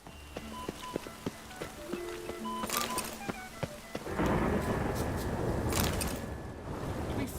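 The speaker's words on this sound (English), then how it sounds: "Must be mad running around in this rain" Rain and thunder in the game Witcher 3, set in Velen: scattered sharp drops and clicks give way to a denser steady downpour hiss, with low rumbling underneath and a few louder cracks, no talking.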